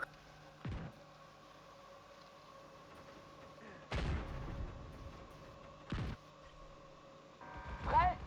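Mortar rounds from The Division 2 land as several separate booming thuds, muffled and moderately loud, spaced a second or more apart over a steady game background, with faint chatter from players.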